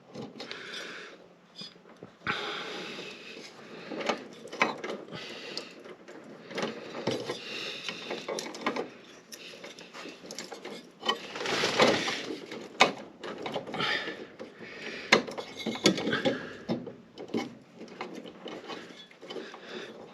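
Screws driven to mount a light fixture during home lighting wiring, producing a continuous run of close, mechanical ratcheting and scraping clicks with irregular bursts, fairly steady in loudness throughout.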